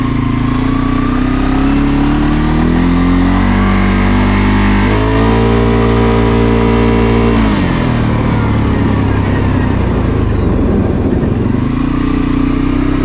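A 2023 CFMOTO CForce 600 ATV engine pulls up smoothly through its revs, a loud steady drone with rising harmonics, easing off partway and rumbling on through a rougher low stretch near the rider.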